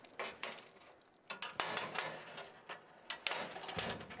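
Small metal washers clink and rattle in quick, irregular handfuls while a toolbox is mounted onto a truck tank. The metallic taps are fairly quiet and close, with no speech.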